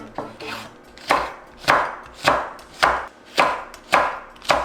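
Cheongyang and red chili peppers sliced diagonally with a knife on a cutting board, about seven crisp, evenly spaced chops with a steady rhythm, close and fairly loud.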